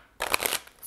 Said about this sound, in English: We are now shuffling to find out who's coming in for you